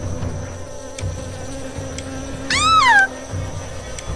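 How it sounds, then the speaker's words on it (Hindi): Bees swarming in a horror-story sound effect: a steady insect drone hums throughout, broken midway by a short, loud, wavering cry that bends downward before the buzzing carries on alone. "कुछ मधुमक्खी निकली और उन सभी के आसपास मंडराने लगी।"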